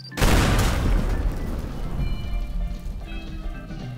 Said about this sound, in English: Now let's see if we can't just bomb the pillar of this one.